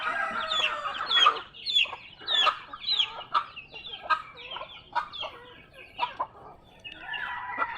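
Chickens and newly hatched chicks on a farm: repeated high peeping and clucking calls come in quick bursts throughout, fairly close, with no talking.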